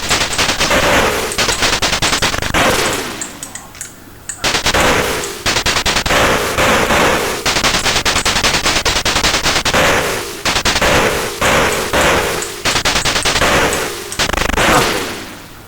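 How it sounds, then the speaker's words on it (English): Shooting and explosion effects from an Atari ST video game: loud, dense bursts of rapid-fire gunshots with short pauses between volleys and a brief explosive thump, no talking. "Interesting how the only real sound effects is the shooting, a bit of an explosion thing."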